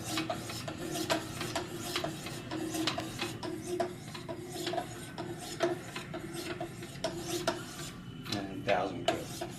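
A knife blade is sharpened on 800 and 1000 grit stones of a Wicked Edge guided sharpener, with continuous close rasping strokes in a steady back-and-forth rhythm, fairly quiet, with no talking.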